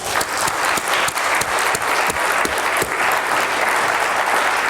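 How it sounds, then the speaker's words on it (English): A full audience at an NHS annual general meeting applauds, a dense, sustained wash of many hands clapping throughout, loud and near, with a few sharper claps standing out. "let's give a final round of applause to our public"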